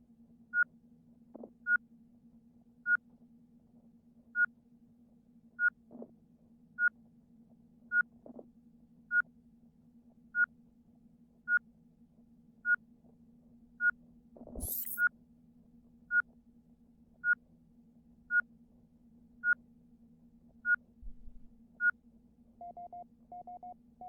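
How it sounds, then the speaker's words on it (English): A spaceship alarm in the Ostranauts game beeps in a steady, evenly spaced series of short, clear tones over a low hum, joined briefly by a louder whoosh midway and a different tone at the end. "That's probably the real alarm."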